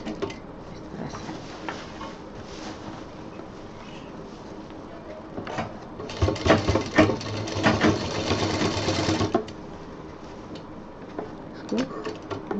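A sewing machine runs in short bursts while stitching a diaper bag along its piping, with one longer, louder stretch of rapid mechanical clatter in the middle and quieter handling noise around it.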